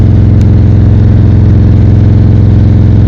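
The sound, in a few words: motorcycle engine running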